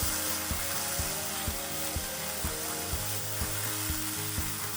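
Spiced masala with garam masala sizzles in hot oil for paneer tikka masala, a steady bright fry with a spoon scraping the pan about twice a second.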